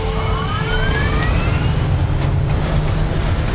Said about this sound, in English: Very satisfying engine noises.